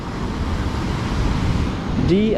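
Strong surf breaks at Pantai Seruni, a natural south-coast beach in Donorojo, Pacitan, as a steady, loud, broadband wash of crashing water. A voice starts speaking right at the end.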